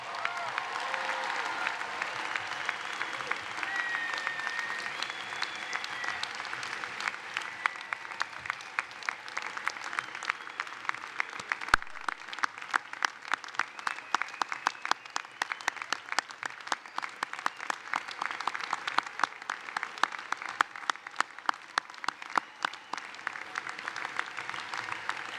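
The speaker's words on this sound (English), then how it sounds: "could everybody in the audience please join me once again in a round of applause for the MBA class of 2011" An MBA commencement audience gives the graduating class of 2011 a long round of applause, a dense, steady wash of many hands clapping that swells slightly midway and continues without letup.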